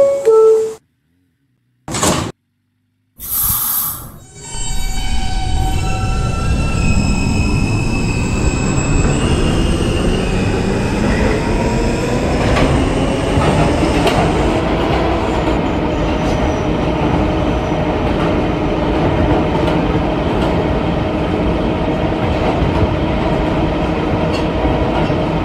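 An R160B Alstom R local subway train in a Roblox game, bound for Myrtle Avenue, starts with a few brief door-chime tones. It then rolls into a loud, steady rumble with squealing wheels and clickety-clack that continues throughout, with no voices.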